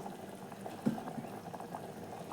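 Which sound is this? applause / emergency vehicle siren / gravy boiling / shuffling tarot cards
gravy boiling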